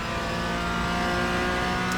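Porsche Cayman GT4 engine in iRacing on the Sonoma circuit, pulling hard under acceleration out of a corner; a steady, loud onboard engine drone with rising harmonics, continuous with no voices.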